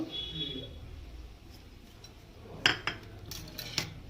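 Rice flour and gram flour batter for Bengali helencha greens fritters is whisked in a bowl, sounding as soft scraping followed by a few sharp clinks of a utensil against the bowl near the end, with no voices.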